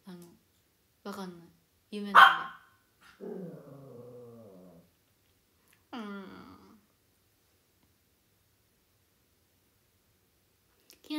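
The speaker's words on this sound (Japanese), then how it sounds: "その鳴き声に反応して近所の犬が泣いてる。" A neighbour's dog, set off by a pet's cry, makes a few close yelps and growling barks in short separated bursts. A voice speaks in between.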